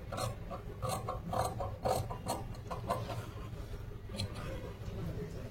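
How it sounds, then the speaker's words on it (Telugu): Scissors cutting cloth for cutwork blouse piping make soft, rapid snipping and crunching strokes in short bursts, close by and fairly quiet over a low background hum. "ఇప్పుడు మళ్ళీ యథావిధిగా అవన్నీ కటింగ్ చేసేసుకోవాలి."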